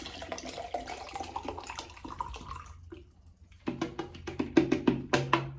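Water is poured into a vessel and stirred in, giving irregular close splashes and sloshing bursts, a short lull, then a further run of louder rhythmic sloshes.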